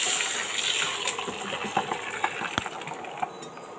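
Soaked rice and its soaking water pour from a cup into a pan for ghee rice, a steady close splash and gush with small scattered plops.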